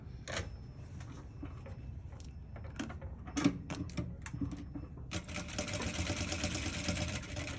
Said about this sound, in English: Control your machine at that curve. Don't try to make it run fast.